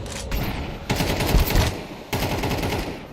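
Rapid automatic gunfire from a Counter-Strike match between pro teams, including Furia, at IEM Chengdu 2025, sounding as loud, dense bursts that swell and break off, then resume.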